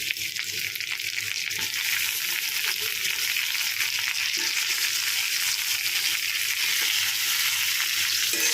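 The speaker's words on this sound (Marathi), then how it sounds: "तर आपला कांदा छान असा परतला गेला आहे आपण त्यामध्ये आता टॉमॅटो टाकणार आहोत" Onion and tomatoes sauté in oil in a pan, giving a steady, close sizzle and crackle of frying that carries evenly throughout, with faint stirring scrapes and no voices.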